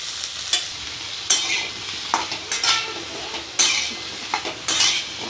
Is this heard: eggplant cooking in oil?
yes